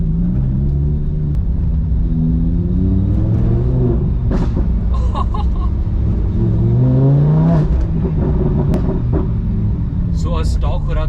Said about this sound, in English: Car also has a race exhaust which is fitted from the Lamborghini factory.